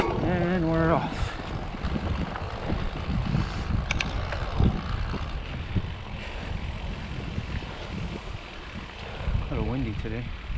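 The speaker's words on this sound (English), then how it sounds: "A little windy today." Wind buffeting a microphone while riding trails at Oleta River State Park on a rainy, cloudy day, a loud rough rumble throughout with brief squeaky chirps at the start and end.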